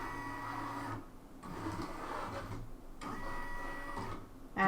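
A Brother Skitch PP1 embroidery machine traces its design area, giving a steady mechanical whirring hum with rhythmic pauses and restarts about every second and a half, close and alone.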